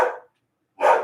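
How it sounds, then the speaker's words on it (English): A pet dog barks twice, loud and close, at someone passing by. The two sharp barks are less than a second apart, with silence between them. "my dog is barking at someone"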